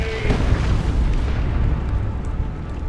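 A grenade detonating in the Dawn of War 2 Retribution strategy game, a loud rumbling blast that sustains as a dense roar for about three seconds.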